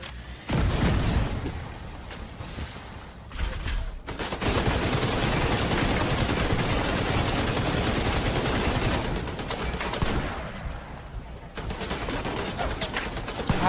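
Rapid turret gunfire in the shooter game The Division 2 hammers away in long, dense bursts, loud and close, with brief gaps before the barrage resumes.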